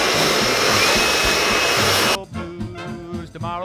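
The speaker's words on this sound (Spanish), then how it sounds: "Entonces voy a secarlo un poco para darle el toque que queremos." A hair dryer blows loud and steady while a client's hair is styled with a round brush in a barbershop, then cuts off abruptly after about two seconds, leaving quieter handling noises.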